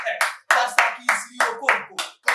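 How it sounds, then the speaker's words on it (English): A church audience claps in a quick, rhythmic beat, with about eight sharp bursts in a row at close range and voices mixed in beneath. "Clap your hands."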